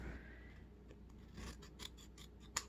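Scissors trim the edge of a paper card, a few quiet close snips and crisp cutting rasps over a short stretch.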